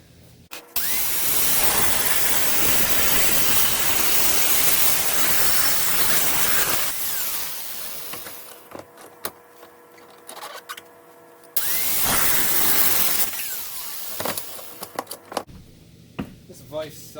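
A power tool cuts through flat bar steel for homemade engine motor mounts on a White GT1855 garden tractor, running loud and steady in two long bursts with a quieter stretch of shop clatter and voice between.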